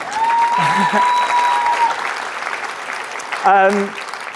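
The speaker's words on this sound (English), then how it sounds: "thank you to the person who clapped" Clapping from an audience during a talk on neurodivergent thinking at a work conference. It runs as a steady patter beneath a speaking voice, with a brief louder swell near the end.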